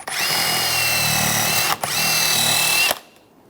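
A power tool whirs steadily as it cleans rust off the front brake parts of a 2009-2013 BMW 328i xDrive, loud and close, with a brief dip before it runs on and then stops.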